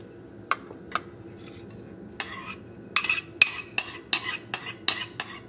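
Eggs go into banana bread batter in a bowl, with a few isolated clinks followed by a run of rhythmic scraping and tapping strokes of a utensil against the bowl, close and fairly loud.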